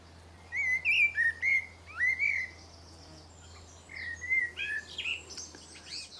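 A blackbird sings in a garden, two bursts of fluting, whistled phrases separated by a short pause, clear and fairly close over a low background hum.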